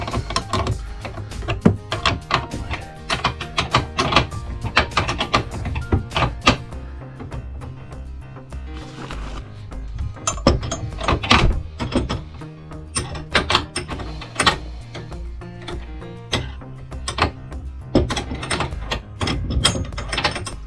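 Hardware being tightened on an RV bed strut mount, a close run of quick ratcheting clicks in bursts with metallic clanks and short pauses, no talking.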